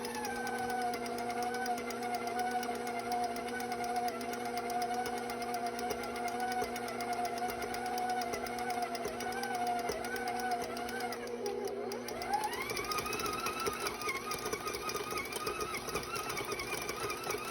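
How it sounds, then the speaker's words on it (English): An electric mixer beats vegan chocolate chip cookie dough made with coconut oil until it turns smooth. The motor whines steadily, then its pitch dips and recovers as the load changes. "Now I'm going to mix it a little longer until it becomes smooth and completely sticks together."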